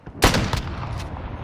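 Sniper gunfire in a video game: a single sharp, loud shot followed by a rolling echo and a couple of fainter trailing reports, with no talk over it.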